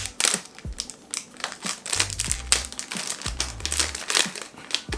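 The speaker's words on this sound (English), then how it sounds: "love that plastic noise" Crisp, close crinkling and crackling of plastic wrap being peeled off a perfume box, in irregular bursts with soft rustles and taps between them, no talking.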